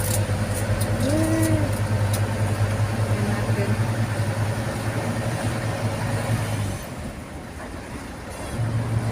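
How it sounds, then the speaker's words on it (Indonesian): Budiman intercity bus riding the Tasik–Cijulang route, a steady low engine drone and cabin rumble heard from inside, with a brief spoken remark and a drop in the hum near the end. "Ini ya bus jurusan Tasik Cijulang."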